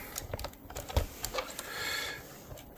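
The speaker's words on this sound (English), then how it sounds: "I'm going to go ahead and center the carriage just for convenience sake." A Smith Corona Skyriter portable typewriter has its carriage slid to center, giving a string of sharp mechanical clicks and clacks, then a smoother sliding rasp as the carriage travels.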